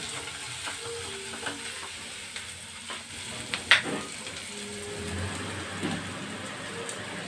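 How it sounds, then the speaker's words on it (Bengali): Spices frying in oil for dal makhani ahead of the tomatoes, a steady close sizzle with occasional stirring scrapes and one sharper clatter partway through. "আগে এটাকে একটু ভালো করে ফ্রাই করে নিই।"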